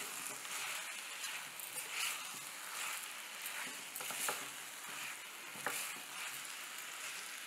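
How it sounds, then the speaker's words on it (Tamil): Chopped ivy gourd sizzles steadily in a hot pan for a kurma, with scattered scraping and clicking as it is stirred, close and continuous with no voices. "இப்போ வந்து கட் பண்ணி வச்சுருக்கிற கோவக்காய் போட்டுடணும்."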